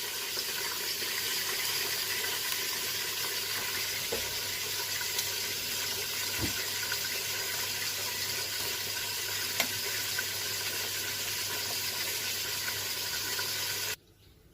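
Boiled rice for mutton biryani being drained, water pouring steadily through a strainer with an even broadband rush that holds for about fourteen seconds, then cuts off abruptly.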